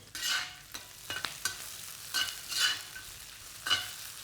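Star anise and fennel seeds sizzle in a hot pan while being stirred, with repeated scraping sweeps in an uneven rhythm, close by with no talking.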